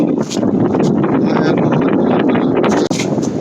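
Strong wind on a beach near Mahabalipuram, India, buffets and roars loudly and continuously, with gusty rustling and crackling close up.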